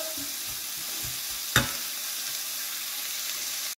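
Onions, leeks and garlic frying and caramelizing in a pan for a quiche give a steady soft sizzle, with one sharp clack near the middle and a brief thump at the end.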